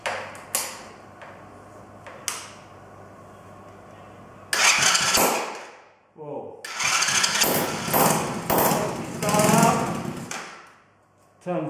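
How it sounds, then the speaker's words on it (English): A Chinese quad bike is started with its push button: a few short clicks and taps, then the engine catches and runs in loud, uneven bursts, cutting out once before firing up again. "Let's press the button, see if she fires up."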